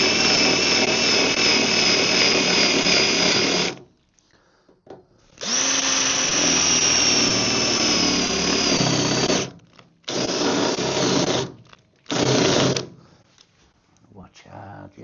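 A power drill grinds through spot welds on a rusty Ford Fiesta body in loud, close bursts of several seconds each, stopping and restarting with short silent gaps between them.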